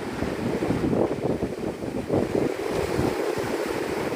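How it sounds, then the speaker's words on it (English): Ocean waves wash onto a Florida beach at Opal Beach, a loud, continuous close surf roar with gusty wind noise on the microphone and no talking. "close your eyes and listen to the waves."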